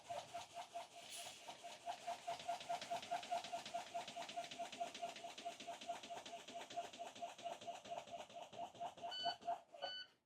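A low air pressure warning alarm on a bus during a pre-trip inspection: a faint, rapid electronic beeping repeats steadily for several seconds, then breaks into a few louder, higher tones near the end.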